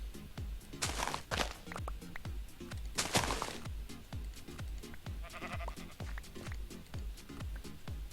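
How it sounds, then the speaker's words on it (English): Sheep bleat in a modded video game where sheep and cows are hostile; the bleats come repeatedly over a rhythmic patter of footsteps, with a few sharp pops mixed in. "Yes, I'm talking about the sheep and the cows."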